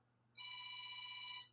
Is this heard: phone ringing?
yes